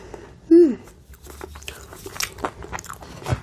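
A sharp crunchy bite into bread packed with nuts such as walnuts or peanuts, followed by several seconds of close, crisp chewing with soft crackles, no talk.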